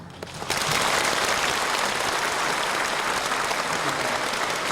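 Church congregation breaks into applause for retiring elders, a sudden full burst of many clapping hands that starts almost immediately and stays loud and steady to the end.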